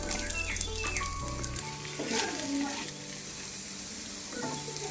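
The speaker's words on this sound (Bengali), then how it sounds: "এবার এই তেলের ওপরে কয়েকটা গরম মশলা দিয়ে দিলাম সেই সাথে কেটে রাখা পেঁয়াজগুলো দিয়ে দিচ্ছি" Sliced onions and whole garam masala spices fry in hot oil, a steady close sizzle and crackle with stirring scrapes and a low hum in the first second.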